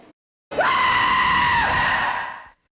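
A loud, drawn-out cartoonish scream from a character in the movie High School Musical 2, rising sharply and then holding a strained, nasal tone for about two seconds before cutting off.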